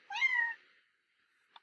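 A single clear cat meow, fairly close and moderately loud, followed by quiet and a faint short sound near the end.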